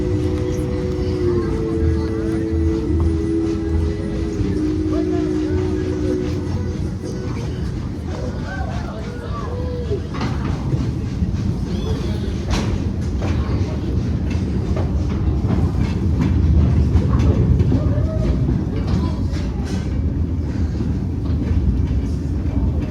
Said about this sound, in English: 3 whistles mean we're backing into the train house, so the train is backing up.